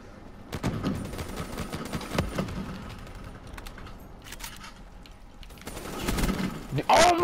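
Gunfire from a Black Ops 3 multiplayer match, scattered shots and short bursts across the clip, getting louder near the end, with voices talking over it.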